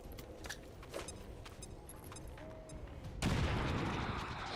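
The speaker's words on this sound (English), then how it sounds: "Grenade out!" A sudden loud grenade blast bursts out in XCOM 2 after a few seconds of quieter scattered clicks and distant pops, its broad roaring wash sustaining to the end of the clip.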